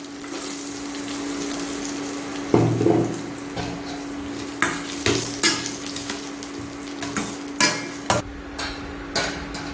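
Onions sizzle and crackle in hot oil with garlic in a pan for drumstick leaf poriyal, a steady loud frying hiss broken by a series of sharp scraping and clanking stirs.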